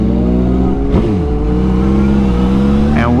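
Motorcycle engine running loud and close while riding on a cruise, a steady low rumble with a rising and falling rev partway through, constant wind-heavy roar throughout and no talking.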